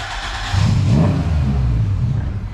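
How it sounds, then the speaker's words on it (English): A car engine is revved hard to make the tailpipe shoot fire, a loud rising roar that peaks and then holds at a rough, throbbing level with no talking. "when I let the button go, I rev it up and then hit it"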